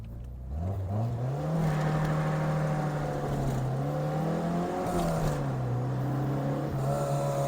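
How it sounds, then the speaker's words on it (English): An old car's 3T engine idles and revs steadily, a low rough drone rising in pitch at the start and holding loud and close throughout. "this 3T engine is an absolute dream"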